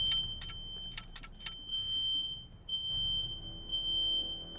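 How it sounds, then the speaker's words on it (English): Smoke alarms going off in a house in the video game Nancy Drew: The Shattered Medallion, a shrill high electronic tone pulsing in repeated beeps, with a burst of clattering, jangling noise early on. "There are 3 fire alarms going off in this house."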